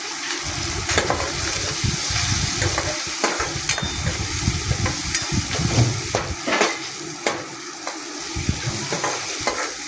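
Cauliflower florets are stirred and fried in a hot pan, giving a continuous crackling sizzle broken by repeated scraping strokes of a spatula. The sound is close and loud, with no one talking.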